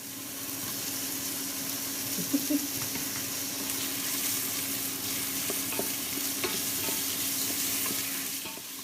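Onion sizzling with ginger in a pan as the base of a beef stew, a continuous close frying hiss with occasional stirring clicks and scrapes, no talking.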